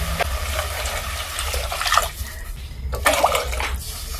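Water is poured from close by into a pot of butternut squash soup with ginger, a steady splashing flow with a short pause midway and a second burst, no talking.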